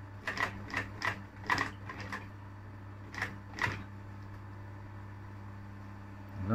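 A sewing machine stitching hook-and-loop upholstery material in short irregular bursts over a steady hum, then running quietly, close and faint.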